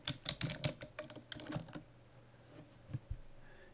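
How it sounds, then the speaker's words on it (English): Fingers type a password on a computer keyboard in a rapid run of crisp, close key clicks, then slow to a few scattered taps at the end. "I come in and I type that new password"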